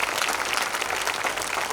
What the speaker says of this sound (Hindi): एक बार तालियां बजा करके माहौल दे दीजिएगा।